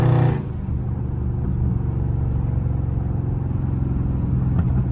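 Close engine of a catless Dodge Scat Pack rumbling loudly while driving, with a brief higher burst at the start and faint popping crackles in the exhaust note.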